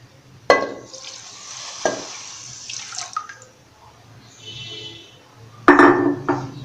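Sugar and water stirred in a metal pot for gulab jamun syrup: a spoon scrapes and clinks against the pot with two sharp knocks, liquid swishes between them, and no one speaks.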